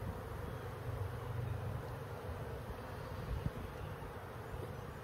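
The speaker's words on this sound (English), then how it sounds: "Looks like a bunch of bees that have recently been hatching." A steady, close insect hum from a mass of recently hatched bees crawling over brood frames in an open hive, a continuous droning buzz with no voices.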